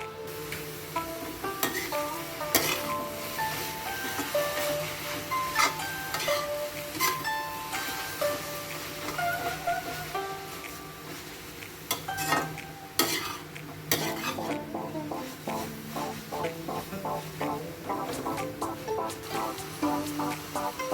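Khoya, half a kilo of it, roasting in a pan for lauki halwa, with a spoon scraping and stirring in steady repeated strokes over a low sizzle and metal clinks, close and continuous throughout.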